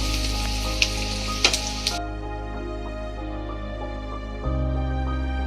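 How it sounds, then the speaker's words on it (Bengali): Onions fry and get stirred in a pan on low heat, a sizzle with a few sharp utensil knocks early on; the frying hiss thins out partway through, leaving a quieter steady hum. "5 থেকে 10 মিনিট মতন আমি পেঁয়াজটা নেড়ে নেব"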